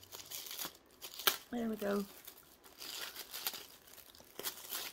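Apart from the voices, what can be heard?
cutting open and unwrapping a Temu plastic package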